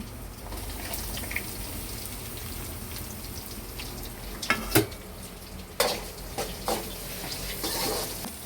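Onions fry in a pan with a steady crackling sizzle close by, joined later by a few sharp scrapes and clatters of stirring against the pan.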